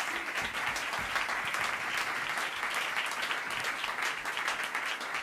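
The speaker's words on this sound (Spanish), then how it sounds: "Así que un fuerte aplauso para ellos también." Loud, sustained audience applause at a Valparaíso Big Band jazz concert, a thick even roar of many hands clapping that continues without a break.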